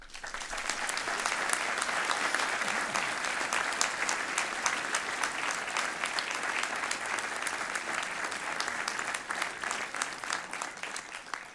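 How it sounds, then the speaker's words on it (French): Steady audience applause at a New Year's wishes ceremony in Tournon, many hands clapping continuously at moderate distance for the whole stretch without voices. "j'aimerais bien que vous les applaudissiez tous, ces élus"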